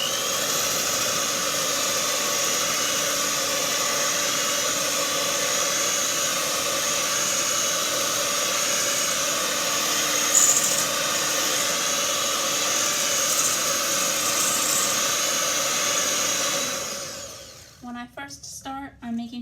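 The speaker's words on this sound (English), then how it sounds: "it's useful to have an electric mixer" Electric mixer whipping meringue in a bowl, a loud continuous high whir that runs steadily for most of the clip, then stops and leaves brief faint knocks at the end.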